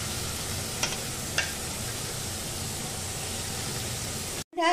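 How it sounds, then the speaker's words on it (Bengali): Lentils for dal makhani fry with salt in a pan, giving a steady, dense sizzle with a couple of faint scraping clicks early on before the sound cuts off abruptly at the end. "ডালটাকে কিন্তু বেশ ভালোভাবে লাল লাল করে ভাজতে হবে"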